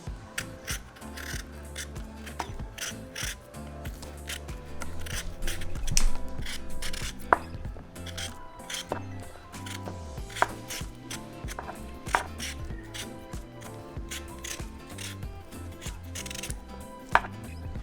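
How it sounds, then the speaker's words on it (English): Potatoes being peeled for steak and potatoes with a repeating scraping, rasping rhythm of strokes that continues steadily at close range under background music, with no talking. "we're just going to peel the potatoes"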